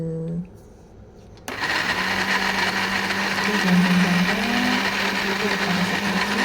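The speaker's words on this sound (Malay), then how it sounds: "Selepas tu kita blend kasar. Okey, kita blend kasar-kasar je." After a brief hum, a blender kicks in loudly and whirs steadily, its motor pitch shifting slightly as it chops thick contents.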